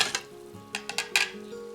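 A whisk stirs flour into liquid in a bowl for a tangzhong bread dough. It gives a few quick, light scrapes and clinks against the bowl, quiet and close.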